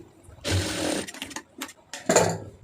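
A sewing machine stitches a blouse sleeve hem in short close bursts: one longer run of stitching followed by a few quick stop-start spurts.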